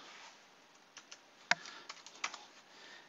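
Quick typing on a computer keyboard with a burst of uneven, fairly close key clicks and one louder keystroke partway through, over a soft background hiss, with no voices.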